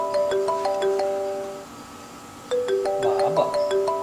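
A phone ringtone chimes in a repeating electronic melody, pauses briefly, then rings again with a second burst of tones, fairly loud and near, with no talk over it.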